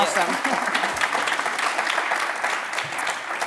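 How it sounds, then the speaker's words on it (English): Audience at a symposium keynote talk applauds steadily, a dense continuous clapping that stays even throughout. "give her a round of applause."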